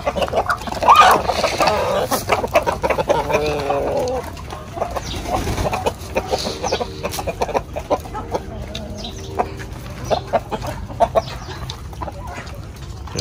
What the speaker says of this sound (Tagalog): Nasa 20 naman ang inahin ito, tsaka 5 tandang